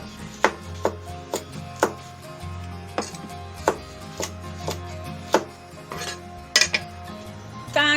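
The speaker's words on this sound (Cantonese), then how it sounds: "而家我哋呢就斬嗰啲椰子出嚟，唔係咁實㗎咋，好容易斬開" A cleaver strikes a coconut in a kitchen, producing a series of sharp, irregularly spaced chopping impacts with clinking, ringing tones. The sound is close and fairly loud, with quiet gaps between the blows.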